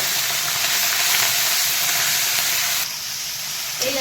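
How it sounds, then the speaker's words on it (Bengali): Prawns hitting hot oil in a pan give a loud, steady hissing sizzle that runs throughout, easing slightly toward the end, with no talking. "আমার এই তেল গরম হয়ে গেছে আমি চিংড়ি মাছগুলো দিয়ে দেবো"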